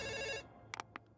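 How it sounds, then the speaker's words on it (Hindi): Cartoon telephone ringing in a bright electronic trill that stops abruptly, followed by a few faint clicks. "बज गई घंटी।"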